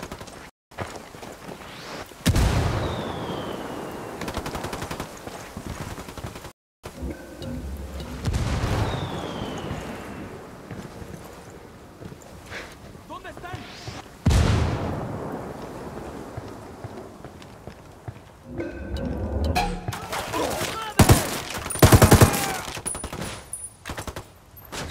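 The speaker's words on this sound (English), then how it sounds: "opening fire." Heavy gunfire in the Ghost Recon Wildlands video game comes as several loud bursts of rapid shots, spread across a long stretch with brief gaps and booming impacts between them.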